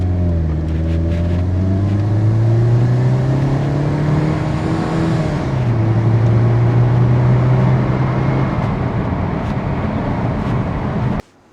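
Exhaust of a Mercedes SLK 200 with a 1.8 supercharged engine, revving loud and close, pitch climbing and falling through several sustained rises before cutting off.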